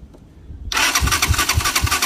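Motorcycle engine with no spark being cranked over, a quiet lead-in followed by a sudden loud, steady whirring churn with rhythmic low pulses, never catching or settling into a running idle.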